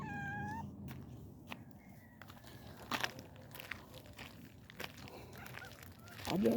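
A domestic cat meows a few times on an evening outdoor walk, close by, among footsteps and rustling, with a short louder cry near the end.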